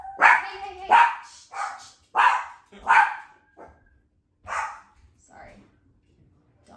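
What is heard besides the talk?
dogs barking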